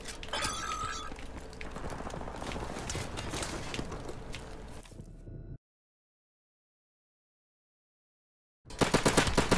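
USP pistol fire in Modern Warfare Remastered: a rapid run of close, snappy shots mixed with game noise for about five seconds, a sudden silence, then a loud burst of shots resuming.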